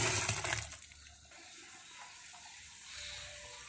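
Panchagavya liquid, darkened with palm jaggery syrup, poured into a farm tank: a loud gushing splash for the first second, then a quieter trickling wash that lingers and swells slightly near the end.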